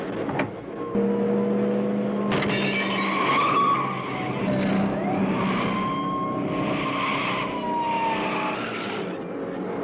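Tires screech and engines roar through a police car chase in a Rambo film, long loud skids sweeping up and down over a steady rumble with no voices.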